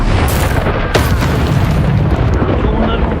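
A fiery Incendio spell blast in the video game Hogwarts Legacy, a loud roaring burst with sharp impacts, dense and continuous throughout, close and full.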